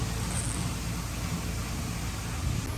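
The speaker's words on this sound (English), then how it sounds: "I guess somebody behind me is doing some pressure washing" A pressure washer cleaning concrete runs nearby as a steady, unbroken hissing drone with a low motor rumble underneath, loud and constant throughout.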